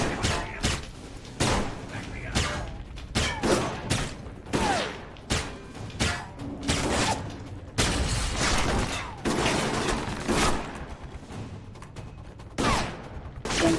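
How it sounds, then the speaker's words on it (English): A turret fires bursts of gunfire in the video game Alpha Protocol, with loud repeated volleys of shots coming in uneven clusters and pauses, while a person talks at times. "Another turret."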